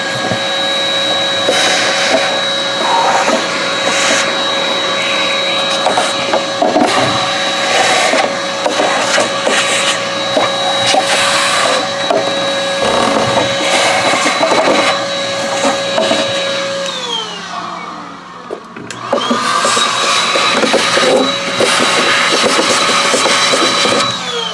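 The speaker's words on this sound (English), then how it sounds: "Okay, I got my vacuum out. Let's just vacuum on this thing a little bit here." A vacuum cleaner runs steadily close by, sucking dirt out of the body of a Japanese hollow-body guitar, with a continuous whine and roar that dips and shifts in pitch briefly near the end before resuming at full strength.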